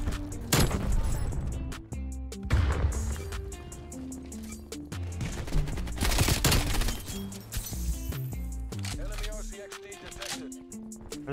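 Rapid gunfire in Call of Duty Cold War from an MP5 submachine gun, dense bursts of sharp shots cutting in and out under game music and effects, with a player's voice talking over it.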